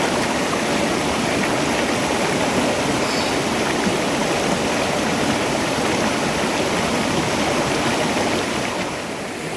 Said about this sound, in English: Come enjoy the river, most naturally.